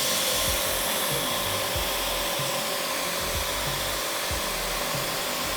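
A Kodenki KDK-8150 jet cleaner runs with a steady, loud broadband whoosh like a hair dryer or vacuum, a constant motor hum throughout and faint low thumps underneath, with no talking.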